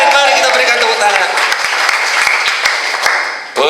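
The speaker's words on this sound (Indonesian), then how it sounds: "Mari kita berikan tepuk tangan" A church congregation at a Sunday service applauds together, dense, loud clapping that gradually thins and fades toward the end, with shouts and voices mixed in.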